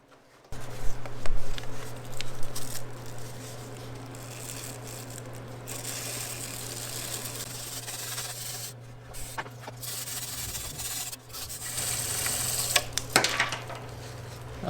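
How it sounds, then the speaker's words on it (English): A stiff brush scrubs a cleaner-soaked chain on a 1974 Yamaha DT250 vintage motocross bike, a steady rasping rub with brief pauses, close up. "Now that the cleaner has sat on the chain for a while, let's scrub it."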